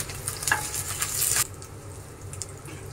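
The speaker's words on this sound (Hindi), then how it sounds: "हरी मिर्च डालेंगे थोड़ी सी अदरक का मैंने टुकड़ा लिया अदरक का टुकड़ा डालेंगे मिला लेंगे" Green chilies and ginger pieces sizzle in hot oil in a pan while being stirred, with scraping strokes over a steady fry that eases after about a second and a half.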